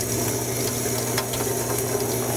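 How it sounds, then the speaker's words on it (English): A photopolymer printing plate rinsed under cold running tap water, a steady loud hiss and splatter of flowing water with faint clicks throughout, no talking. "we're just going to give this a quick rinse under cold water just to get any excess polymer residue off"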